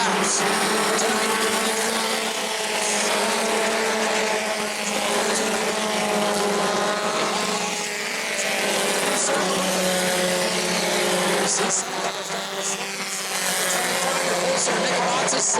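Bomber-class race cars battle for the lead in a 20-lap feature at New Smyrna, a loud, continuous engine roar from the pack that swells and fades as the cars pass, with commentary running over it.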